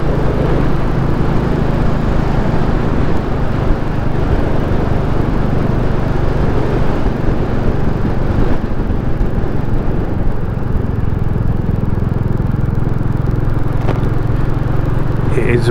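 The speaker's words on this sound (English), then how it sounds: "I do like the single cylinder engine." A Royal Enfield Classic 350 single-cylinder motorcycle engine runs steadily in a continuous, rough mid-pitched thrum heard up close with wind noise, holding at a constant level throughout.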